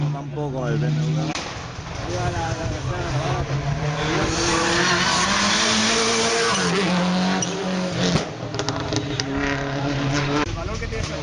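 A BMW race car at a hill climb up to the Castell de Guadalest, its engine holding a steady loud drone with rising revs over about ten seconds, with a brief gear-change dip near the start and crowd talk underneath.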